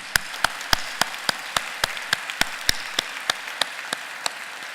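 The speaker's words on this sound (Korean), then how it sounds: "그분들에게 우리 박수를 한번 좀 보내주셨습니다" A church congregation at a Korean Wednesday prayer service claps for its parking volunteers; a sparse, fairly faint patter of individual claps, distinct and rhythmic, with one or a few hands standing out against a soft background.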